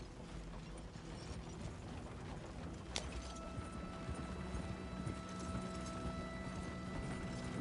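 Horse hooves in Red Dead Redemption 2 keep up a steady, quiet clip-clop with light mechanical creaking and rattling alongside, a single sharp knock partway through, and no voices.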